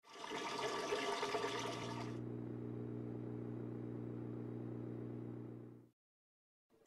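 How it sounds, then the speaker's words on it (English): A dishwasher's drain pump pumps water out of the machine, starting with a gushing, splashing rush and settling into a steady low hum until it shuts off abruptly. "It is the drain pump draining water out of the dishwasher."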